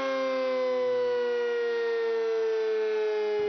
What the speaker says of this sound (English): the emergency sirens are blown for fire drill